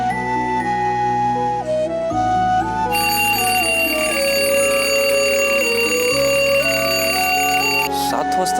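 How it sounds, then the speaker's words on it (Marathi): A melodic alarm clock tone set for seven in the morning rings loudly and continuously in a home, its chiming notes stepping up and down with a steady backing throughout. "सात वाजताचा अलार्म का लावला असेल राणीने?"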